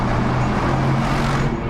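A Mercedes McLaren SLR cruises on the German autobahn, giving a loud, unbroken roar of engine, tyres and wind that holds steady throughout, with no speech.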